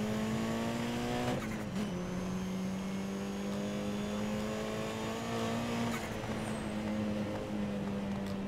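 Car engine droning steadily with sustained tire squeal as the car drifts in Need for Speed Most Wanted (2012) racing gameplay, loud and continuous throughout with a brief skid burst early on.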